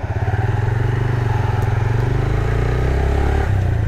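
A new motorcycle's engine chugs close by in first gear with a rapid, even exhaust pulse, its pitch rising slightly as the bike moves off slowly with the clutch released gently.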